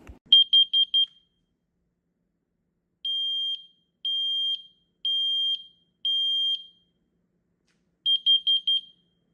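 A combination smoke and carbon monoxide detector being tested in a kitchen sounds its shrill electronic alarm: a quick burst of rapid beeps, then four long evenly spaced tones, then another fast burst, loud and close with silence between.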